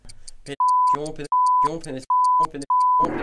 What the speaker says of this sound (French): Dites-le jusqu'à temps que ça n'ait plus de bip